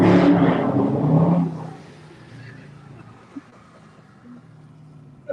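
A car engine revs hard at half throttle, loud and close for the first second and a half, then drops away to a low fading rumble with a few small knocks.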